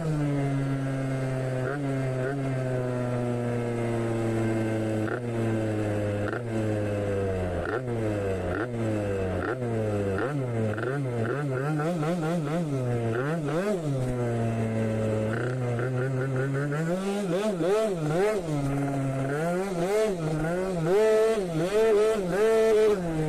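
A Malaguti scooter's small engine revs hard at high RPM while riding, the whine steady and continuous with pitch sweeping up and down as the throttle changes, close to the microphone.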